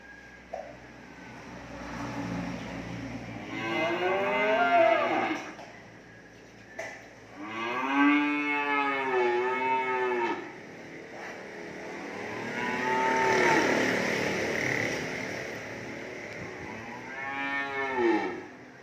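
Cattle at a livestock market low repeatedly, with four long drawn-out moos spread across the stretch, loud and close, separated by brief pauses with a faint murmur of background noise and no talk.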